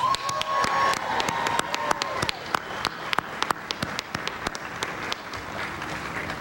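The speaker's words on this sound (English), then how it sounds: "Give her a big round of applause" Audience applause on the White House South Lawn at a Fourth of July celebration, a crowd clapping steadily with scattered sharp claps and some cheering over a sustained tonal background.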